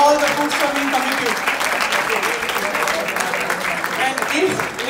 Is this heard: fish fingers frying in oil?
no